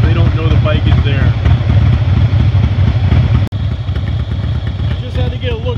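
A motorcycle engine idles at traffic lights, a steady close rumble running without a break, with a brief sharp click partway through.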